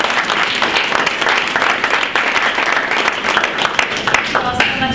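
Close, loud audience applause after a college admissions information session, a dense, continuous clatter of many hands with some voices mixed in.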